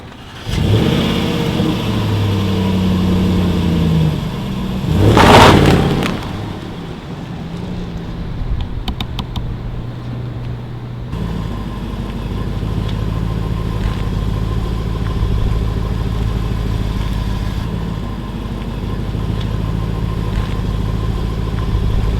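Car engine revving as the car pulls away with iPhones set on its trunk, a loud rising rev early on, then a steady mid-pitched engine drone as it drives off.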